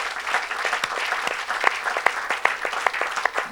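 A church congregation at a Saturday worship service clapping for Jesus, a dense, steady wave of applause with sharper individual claps standing out near the front.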